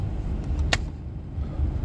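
A car moves through slow city traffic near Citi Field, a steady low engine and road hum with a brief sharp mechanical click or whir partway through, and no one talking.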